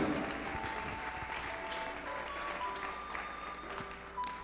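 A church congregation applauds during a sermon, a steady wash of moderately faint clapping lasting a few seconds with no clear voices above it.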